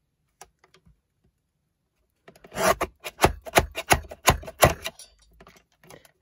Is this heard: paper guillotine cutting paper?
yes